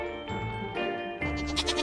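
A goat in the VR game Deadly Daycare gives two quick wavering bleats over a tonal game music backdrop, close and clear.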